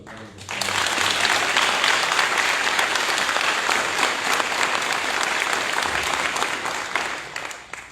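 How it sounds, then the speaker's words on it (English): A school auditorium audience gives sustained applause at a high school honors night, dense even clapping swelling in quickly and holding loud before tapering near the end. "please give her a round of applause"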